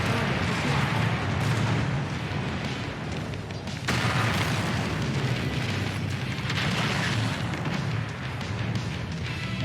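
Missile launches and explosions roar in MechWarrior 5, a dense, continuous rumbling barrage with a sharp new blast partway through, loud and close with no talk.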